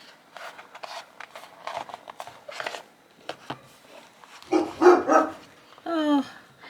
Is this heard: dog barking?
yes